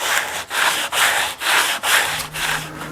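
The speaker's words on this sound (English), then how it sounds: "So you get a nice sanding action, more sandpaper is in contact with your material" Sandpaper rubs rhythmically by hand over a wooden steering wheel for a 1939 Hudson in long, steady back-and-forth strokes, close up and continuous, about six passes with no talking.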